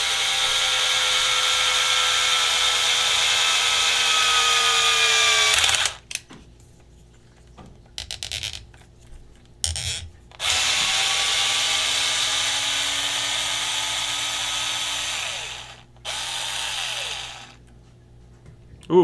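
A power driver runs screws through the arm of a 1/10 scale RC race car, giving a steady high whirring drone that cuts out and restarts in several bursts, close and loud with no talk.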